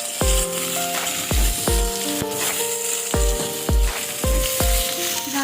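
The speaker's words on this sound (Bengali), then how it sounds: "গাজর আর আলুটাকে কিছুক্ষণ আমরা ভেজে নিয়েছি" Carrots and potatoes frying in a pan for a vegetarian bhog khichuri, a constant sizzle punctuated by several sharp metallic clangs of a utensil striking the pan in an irregular rhythm, with no voices.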